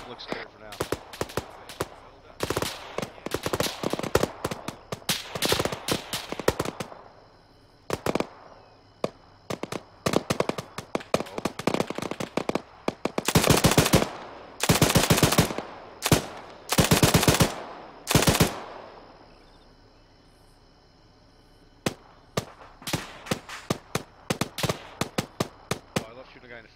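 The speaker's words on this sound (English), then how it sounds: "I'll put out suppressing though." A machine gun lays down suppressing fire in the Arma 3 military game, firing loud, repeated bursts of rapid shots with short pauses between them, while voices talk at times.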